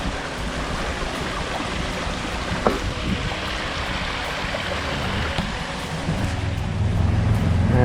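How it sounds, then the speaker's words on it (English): A river flows beside a greenway trail in Smithfield, North Carolina, a continuous, fairly loud rushing wash that holds steady and swells slightly toward the end, with no one speaking. "We're just going up along the river here."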